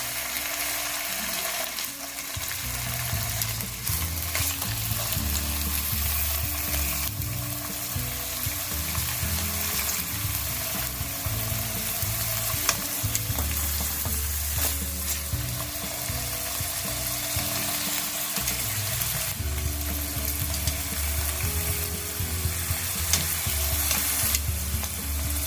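Pork belly searing in a pan for ramen chashu, a loud continuous sizzle with spattering crackles and occasional clatter or shifts in the pan, close up and steady throughout, no voices.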